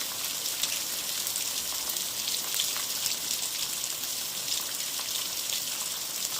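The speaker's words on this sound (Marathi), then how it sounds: "आपण आपल्या चॅनलच्या माध्यमातून पाऊस दाखवण्याचा प्रयत्न करत आहोत" Heavy rain falls in Maan taluka, Satara district, a steady, dense hiss of drops on the ground and roofs, unbroken and fairly loud, with faint trickling water and no voices.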